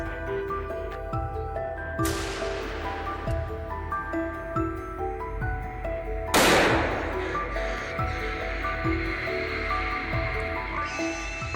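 A gunshot fired from a helicopter at a wild boar in a Texas forest: two sharp broadband cracks about four seconds apart, the second louder and closer, over a steady rotor drone.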